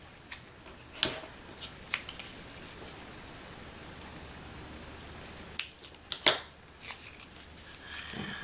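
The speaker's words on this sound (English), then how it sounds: "I'm going to have to trim it just ever so slightly." Paper being trimmed with scissors for a scrapbook memories page, a handful of sharp, separate snips and clicks spread unevenly across a quiet room with no talking.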